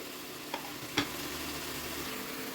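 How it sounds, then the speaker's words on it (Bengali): Khichuri frying in a pan just after sugar goes in, with a steady low sizzle, a couple of soft scraping stirs of the spoon, and quiet continuous bubbling throughout. "দেন ভালো করে আবার কষিয়ে নেব।"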